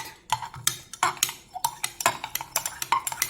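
Blue tansy oil being stirred into a gel makes a quick series of light clinking and scraping taps against a container, irregular and close, with no voices.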